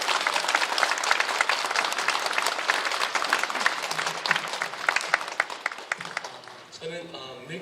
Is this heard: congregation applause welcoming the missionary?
yes